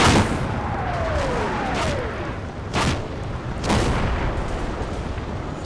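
Artillery barrage in the Combat Mission wargame during Operation Bluecoat: heavy booming shell impacts and blasts roll across the battlefield, several sharp broadband hits over a constant rumbling din, with whistling incoming rounds.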